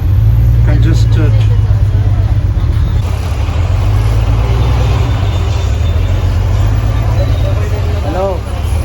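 Congested street traffic in Colaba heard from aboard a bus, a loud continuous low engine rumble with passing vehicle noise and a horn near the end, under a man's speech.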